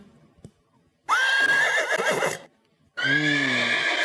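A horse neighs twice as the answer in a children's sound-guessing game: two loud, shrill whinnies with a fluttering, descending quality, separated by a short silence and heard alone without talk.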